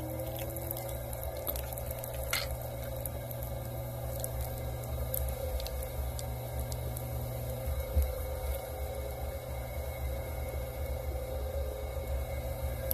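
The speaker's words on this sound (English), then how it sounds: "And I'm kneading again, so I'm pressing clay, pressing it back down, feeding it back up" Wet pottery clay is kneaded and pressed by hand to prepare it for throwing a mug, giving soft, faint squishing and dripping sounds over a steady background hum.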